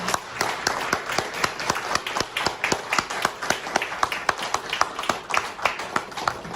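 Applause for a special lecturer at an anniversary ceremony and press award event, a steady round of distinct individual claps from a modest crowd, moderately loud with no talk over it.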